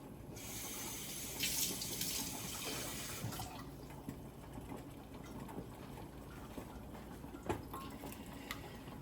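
Water splashing into a pot of thick Jamaican plantain, oats and peanut porridge cooking on a stove, a brief pouring rush at the start over steady background noise, then fainter stirring clinks and a sharp knock near the end.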